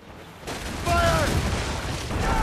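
Ship cannons firing in the naval battle game Assassin's Creed Rogue, a loud continuous booming roar that swells partway through, with a shouted voice over it.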